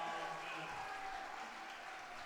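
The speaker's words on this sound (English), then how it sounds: "Nice crowd at Hillsborough Stadium in beautiful Hillsborough, Oregon, home of the Portland Stags" A crowd at Hillsborough Stadium in Oregon applauds steadily after a score in an ultimate frisbee game, a faint, distant wash of clapping with no break.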